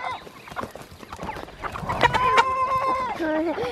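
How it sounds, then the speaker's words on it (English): Chickens cluck and squawk close by, with several higher drawn-out calls overlapping toward the end amid some rustling. "the chickens will happily do it"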